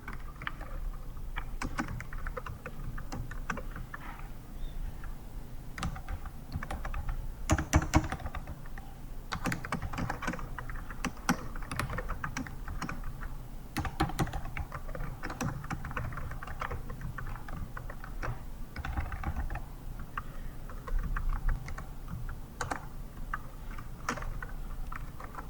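Steady typing on a computer keyboard while entering a patient's last name into a record, a dense run of quiet, close key clicks with brief pauses and a few louder taps.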